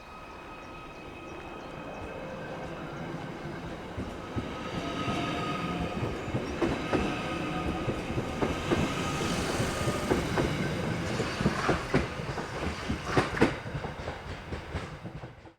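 A Class 777 train pulls away from Bidston Station on the Borderlands Line, its rumble building steadily with clattering wheel clicks and faint squeals as it passes close and loud, no talking.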